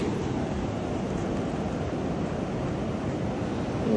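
Steady broadband wash of ocean surf on a shore, continuous and fairly close, with a windy rushing quality and no voices.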